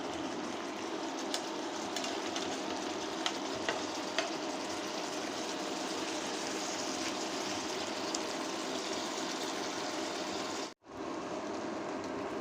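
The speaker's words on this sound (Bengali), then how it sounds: "5 ফোড়ন আর রাঁধুনি মশলা দিয়ে সবজিটা রান্না করছি।" Vegetables cook in a pan tempered with five-spice and radhuni, a soft, even sizzle and light stirring that hold steady at low volume and then cut out for a brief moment near the end.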